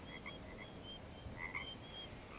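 Frogs croak steadily in the distance, a chorus of short repeated calls over a constant low background hum.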